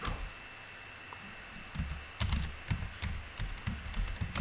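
Keys clatter on a computer keyboard as a chart name is typed into an Excel dashboard, with a quiet pause first and then a quick, uneven run of sharp, close taps.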